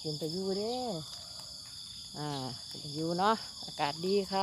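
Crickets in rice fields keep up a steady, high-pitched chirring throughout on a morning walk, running beneath a voice as she talks.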